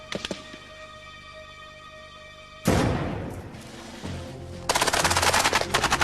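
Rapid gunfire from a military training exercise, a loud continuous burst of automatic fire that starts abruptly and swells into dense, overlapping shots, with an earlier low mechanical drone.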